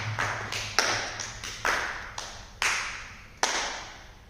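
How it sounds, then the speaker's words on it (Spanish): Six sharp slaps of a right palm striking an open left palm, spaced irregularly, each a crisp close smack with a short ringing decay over a faint low hum, no voices. "abre la palma de tu mano izquierda e impacta en ella tu palma derecha"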